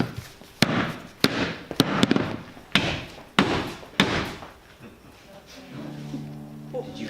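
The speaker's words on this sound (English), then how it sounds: "Thump, thump, thump. An echo from hell." Heavy thumps strike one after another at uneven intervals in a Frankenstein drama, each hit sharp and booming, about seven in a row before they stop, followed by a soft tonal sound at the end.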